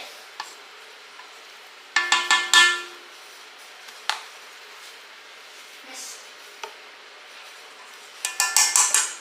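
Spatula scraping down a thick powdered sugar and cream mixture in a bowl for buckeye brownies, a few short clattering bursts of utensil against the bowl with quiet pauses between.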